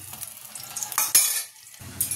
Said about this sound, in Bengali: এখানে ভাজা হচ্ছে বেগুন